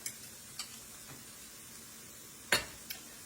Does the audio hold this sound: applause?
no